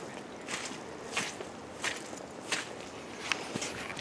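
Footsteps squelching across a boggy, waterlogged lawn, about six soft wet steps at an even walking pace, close and fairly quiet with no talking.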